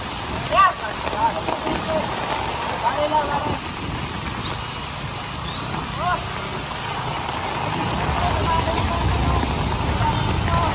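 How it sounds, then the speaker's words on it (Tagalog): Heavy rain pours onto a flooding Taft Avenue street in Manila as a dense, steady hiss that swells louder toward the end, with faint indistinct voices and traffic mixed in. "Grabe na ang ulan, lakas."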